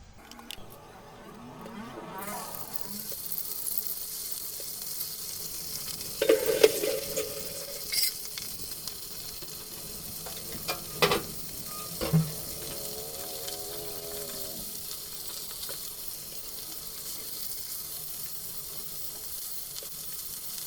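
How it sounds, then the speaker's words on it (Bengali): Pabda fish frying in hot oil in a wok, a steady close sizzle with bursts of crackle and a few sharp pops and utensil clinks partway through, no talking. "কড়াইতে তেল গরম দিয়ে দিচ্ছি তেলটি গরম হয়ে গেলে মাছগুলো লাল লাল করে ভেজে নেবো"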